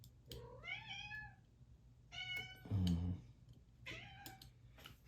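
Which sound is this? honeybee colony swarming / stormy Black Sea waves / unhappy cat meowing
unhappy cat meowing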